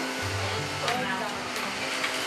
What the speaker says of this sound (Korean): 아까부터 어디서 청소기 소리가 나죠?